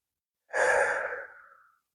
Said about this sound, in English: You're breathing in gratitude. Breathing out.